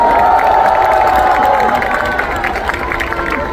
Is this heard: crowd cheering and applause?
yes